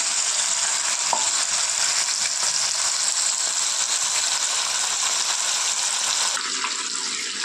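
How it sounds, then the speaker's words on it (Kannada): Four fish pieces fry in hot oil on a tawa, a loud dense crackling sizzle that holds steady, then drops sharply quieter near the end. "ಇವಾಗ ಎಣ್ಣೆ ಕಾದಿದೆ, ಅದಕ್ಕೆ ಇವಾಗ ಫಿಶ್ನ ಬಿಡ್ತಾ ಇದ್ದೀನಿ"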